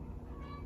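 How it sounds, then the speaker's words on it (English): A faint, brief cat meow rises in the background over a low steady hum. "The cat agrees, if you can hear the cat in the background."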